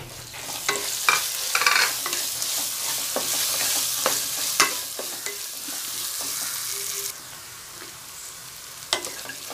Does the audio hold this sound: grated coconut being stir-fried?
yes